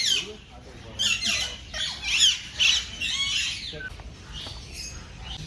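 A parrot squawks loudly several times in Vadodara, Gujarat, harsh raspy calls close by, separated by brief pauses.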